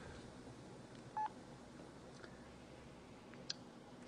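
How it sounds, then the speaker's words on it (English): Phone dialer keypad tone, a single short beep partway through, with faint clicks later over low background hiss; no talk. "It's the phone dialer right here,"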